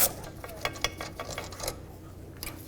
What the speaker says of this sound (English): I'm just going to use a ratchet wrench and get those two completely out of here.